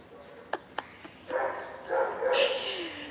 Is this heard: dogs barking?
yes